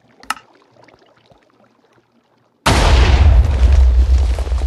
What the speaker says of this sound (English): Just shoots 2 TNT.